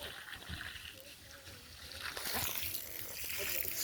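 Water poured and splashing onto a campfire to douse it outdoors in the mountains, a rising hiss and slosh that grows louder toward the end, with someone talking early on.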